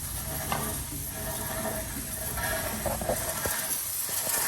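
Brake cleaner hisses as it is sprayed onto a spinning motorcycle chain, steady and close, over the whir and faint ratcheting clicks of the turning chain and sprockets.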